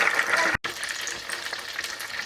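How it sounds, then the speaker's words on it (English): Chicken nuggets and chips frying in a fryer basket, a loud steady hiss and crackle of hot oil that breaks off for a moment, then sizzles on continuously up close. "I'll fry these and then we can check on the corn in the oven"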